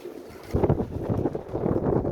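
Soft, low cooing of a flock of about a thousand kept pigeons murmuring steadily nearby, with a breezy background and no talk.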